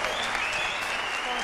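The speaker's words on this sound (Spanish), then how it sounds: "vamos a dar fuerte el aplauso a esta Marta" A large crowd in an auditorium applauds in a dense, steady wash of clapping that fills the whole brief moment.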